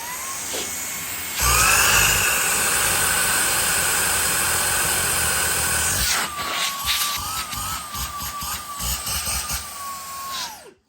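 A Numatic Henry Quick cordless stick vacuum starts with a faint whine, then runs loud with a steady high motor whir for several seconds before dropping to a rougher, fluctuating hum with a wavering tone.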